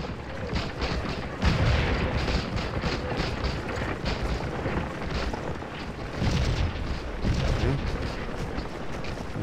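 Musket volley in the Civil War strategy game Scourge of War: Gettysburg, a rolling crackle of gunfire and heavy booms from a Confederate engagement, with repeated dense bursts over continuous battlefield din.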